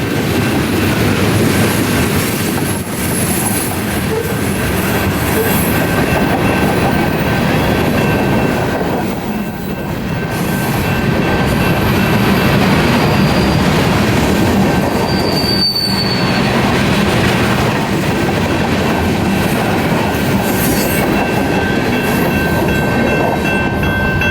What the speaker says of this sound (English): Another UP train makes a surprise visit to this spot, a manifest that is either bound for Council Bluffs